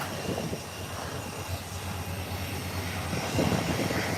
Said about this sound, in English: here comes the other Beechcraft 1900 coming in from the nation's capital, Grand Turk